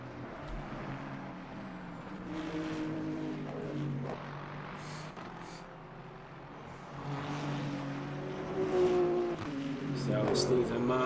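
A BMW M4 race car in the Le Mans Ultimate sim racing game, at the Belgium round on the Kemmel straight, with a steady engine drone that rises in pitch beneath continuous commentator talk.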